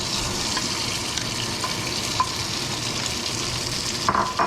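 Beef and pepper stir-fry sizzles in plenty of hot oil in a pan, a steady, dense crackle that carries evenly from start to finish, with a few small pops near the end.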